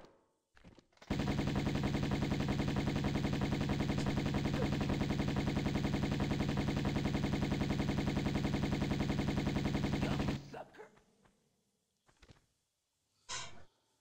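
A long unbroken burst of automatic weapon fire from Tomb Raider I Remastered rattles for about nine seconds, loud and steady, then cuts off, followed by faint breathing and a short sharp sound near the end.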